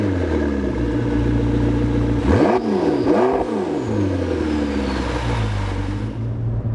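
A McLaren 650S Spider supercar cruises on the highway with a loud, steady engine drone, and two quick rising-and-falling revs punctuate the middle before it settles back to a steady whir.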